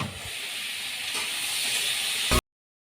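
Rice and vegetables cooking in pots on a home kitchen stove, giving a steady soft hiss of steam and faint bubbling that continues for a couple of seconds before cutting off abruptly.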